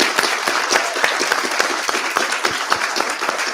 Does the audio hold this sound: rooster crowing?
no